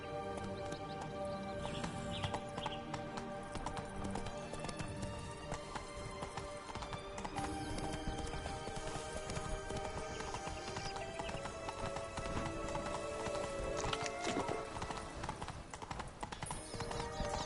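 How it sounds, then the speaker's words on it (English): Horse hoofbeats in The Witcher 3: Blood and Wine video game, a continuous rhythmic clip-clop of a galloping mount with occasional neighs over a dense layer of game music and ambience. "Whoa there, Roach"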